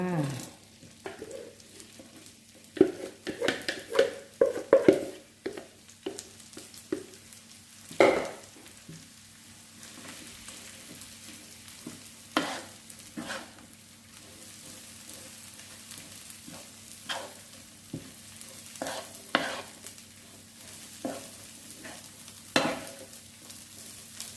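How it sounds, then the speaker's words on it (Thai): Mushroom chili paste stir-fries in a little oil in a wok, a soft continuous sizzle broken by frequent scraping and clacking strokes of the spatula, close and fairly quiet, with no speech. "ก็จะผัดคุเลคุเลไปจนจนเนื้อเนียนสวยเลยค่ะ จนเข้ากับน้ำมัน"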